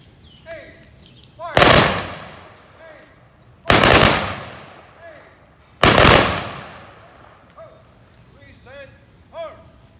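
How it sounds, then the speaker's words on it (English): Honor guard rifle volley salute at a Memorial Day firefighters ceremony: three loud, sharp volleys spaced about two seconds apart, each ringing out with a long echo, with faint background sounds and chirps between shots. "Be prepared for a volley of shots."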